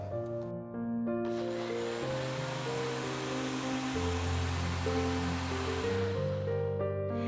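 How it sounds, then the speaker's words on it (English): An electric kitchen blender whirs through mango, sugar and thick full cream milk for a milkshake, a steady buzzing drone with shifting pitch that runs for several seconds before winding down. "Let's cover and blend this out."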